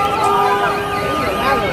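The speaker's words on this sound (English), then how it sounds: "this was the ambulance that just went through." An ambulance siren wails steadily as it passes through a crowded street scene, loud and close, with crowd chatter and voices underneath.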